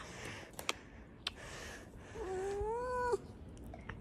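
A cat gives one drawn-out, wavering meow that rises and falls like a spoken "no," heard close and fairly clear over faint room noise and a few soft clicks, with no talking.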